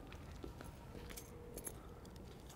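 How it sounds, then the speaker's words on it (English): Car keys for a 1983 Buick Electra Limited jingle faintly in a hand, with soft scattered metallic clinks over quiet background noise and no talking. "I think I have the keys."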